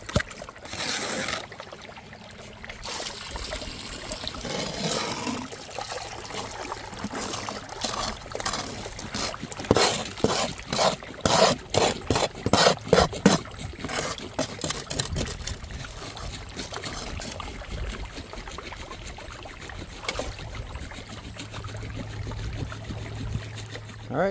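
Water runs gold-bearing material through a sluice outdoors, a continuous rushing trickle broken by a burst of sharp gravelly clatters midway, then settling back to a steady flow.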